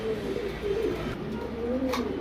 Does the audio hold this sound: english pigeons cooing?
yes